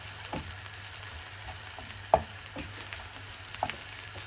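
Prawns and onion fry in a pan for a Sri Lankan-style prawn and aubergine dish, a soft, even sizzle with a few light stirring clicks and taps.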